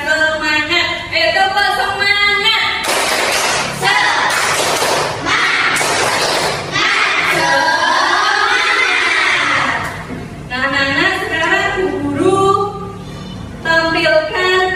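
A classroom of children doing a rhythmic spirit clap, bursts of claps and loud chanting voices with shouts, an adult voice leading between rounds, lively and close.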